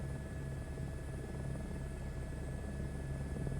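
An Airbus H125 helicopter in Microsoft Flight Simulator 2024 touches down, its steady rotor and turbine drone droning evenly and loudly throughout with a constant whine on top, no talking.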